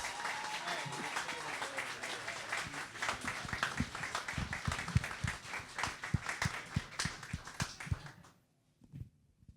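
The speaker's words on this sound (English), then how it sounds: "I think another round of applause." Applause for the contestants at the close of a young sommelier final, a dense patter of clapping with a few louder claps, fading out near the end, with speech mixed in.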